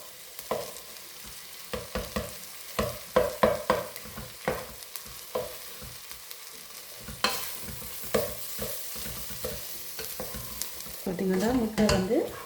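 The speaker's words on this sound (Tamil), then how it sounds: "முட்டை வந்து நல்லா பொரிஞ்சு வரணும்" Two eggs frying in butter in a pan for chicken fried rice: a continuous close sizzle broken by repeated stirring and scraping strokes, with a voice rising briefly near the end.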